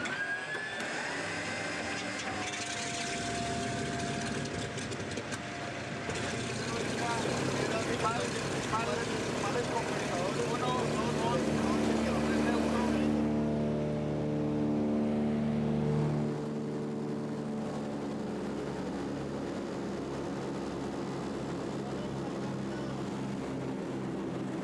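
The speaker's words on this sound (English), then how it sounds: "The mechanic keeps an eye on the engine." A small aircraft engine runs steadily in flight over the Amazon rainforest, a loud continuous drone with layered harmonic hum throughout, its tone shifting partway through, with faint voices mixed in.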